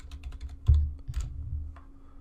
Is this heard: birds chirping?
no